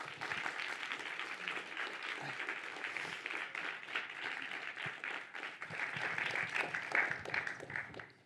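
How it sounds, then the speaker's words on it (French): Lecture-hall applause greeting Bernard Cazeneuve at a Sciences Po Saint-Germain-en-Laye conference, a fairly faint, distant crowd clapping steadily for several seconds with slight swells toward the end. "veuillez faire un tonnerre d'applaudissements pour M."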